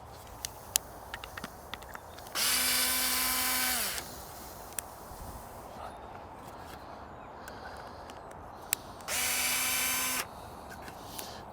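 A power drill drives longer screws into a polytunnel frame, two loud whirring bursts of about a second and a half each, a steady motor whine with a pitch drop as each screw seats, separated by quieter handling noise.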